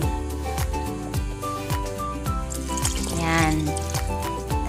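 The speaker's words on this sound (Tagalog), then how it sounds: "saka dadagdagan natin yan ng tubig" Water gurgles and trickles steadily into a pot of chicken wings, a continuous pouring sound with some rising resonance as it fills, no talking.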